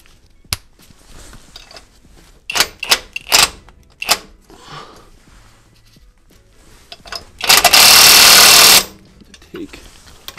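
A 3/8 inch ratchet snugs down the 19 mm track bar bolts on a lifted vehicle, giving scattered bursts of clicking with one loud, sustained broadband burst near the end.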